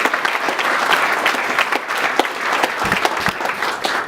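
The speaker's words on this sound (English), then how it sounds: "I think we should also give her a little round of applause" Modest applause from a Fulbright board event audience, a moderate crowd clapping steadily with distinct individual claps standing out over the few seconds.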